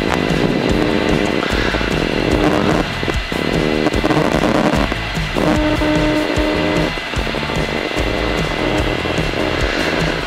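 A Rotax 912 aircraft engine runs continuously nearby, a loud buzzing drone with small dips and fluctuations while the radio interference is being checked; no one speaks.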